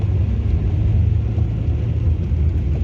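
A car on the road gives a steady, loud low rumble of engine and tyre noise that continues unbroken.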